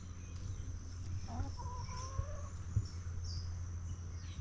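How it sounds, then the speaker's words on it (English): Backyard chickens on an island cluck softly in short calls over a steady low hum, fairly close and unhurried, with no talk. "The chickens are hanging around at the moment, so you'll probably hear them."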